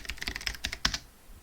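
Quick, close keystrokes on a computer keyboard on a Mac, about a dozen clicks in an uneven burst that stops abruptly.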